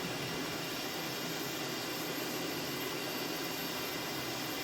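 Steady, loud roar of an M-346 fighter jet engine in Microsoft Flight Simulator 2020, a dense broadband rush with a low rumble holding constant throughout, no talking.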